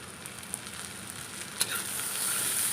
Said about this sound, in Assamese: মই আকৌ এবাৰ মাজতে লৰাই দিওঁ ভাজিখন।